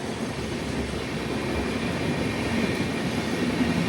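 The Kerala Sampark Kranti Express runs through Varkala Sivagiri station, heard as a steady, continuous rumble and rolling roar of wheels on track, with faint squeals near the end and no voices.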